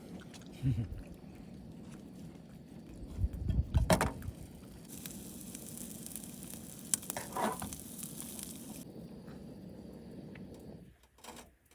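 Soft, steady sizzling of sausages heating in a frying pan, with a few louder clatters and scraping sounds partway through.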